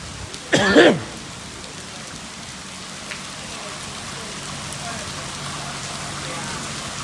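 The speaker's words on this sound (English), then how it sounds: "There's so much rain." Steady heavy rain hisses throughout during a storm in West Pensacola, Florida, with a brief throat-clearing or cough near the start.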